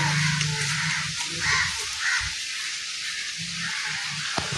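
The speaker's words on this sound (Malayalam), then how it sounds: "പ്രാന്തായി പോയി കാക്ക" Crows caw repeatedly outdoors, their harsh calls coming in uneven bursts over a steady background hiss, fairly close and clear.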